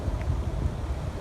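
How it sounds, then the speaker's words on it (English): Gusty outdoor wind buffets the microphone in a steady low rumble with uneven puffs, filling the whole moment with no voice heard. "I hope you can hear me because it's very windy."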